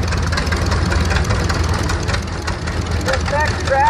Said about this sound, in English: This next tractor is a 1938 McCormick Gears W30